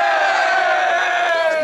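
A huge crowd in Poland at a supercar rally roars and chants together in one loud, sustained, close cheer of many voices.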